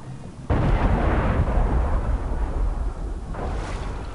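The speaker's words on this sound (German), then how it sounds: "Das war eine Explosion, ey." A sudden loud explosion in the video game Assassin's Creed III booms and rumbles, a deep roar that lingers for several seconds before fading, with a second smaller burst near the end.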